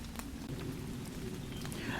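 Steady rain falling on woodland leaves in a Kent wood in early summer, a soft continuous hiss with scattered faint drips, quiet and even throughout.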